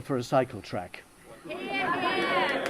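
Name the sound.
audience clapping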